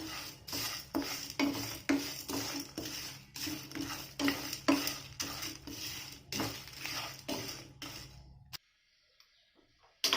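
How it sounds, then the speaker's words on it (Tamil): Whole spices for garam masala dry roasting in a pan, with steady scraping and stirring strokes in a repeating rhythm, close and moderately loud, then stopping abruptly into near silence at the end. "அதனால் எல்லா பக்கமும் நல்லா சூடாகிற மாதிரி நல்லா வறுத்து எடுத்துடலாம்"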